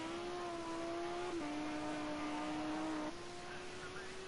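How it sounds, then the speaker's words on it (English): Lamborghini race car engine at Bathurst, a steady high-pitched note held at constant revs, with a brief dip around a gear change and again near the end, heard at a distance alone. "Lamborghini's definitely one of the best sounding cars out there"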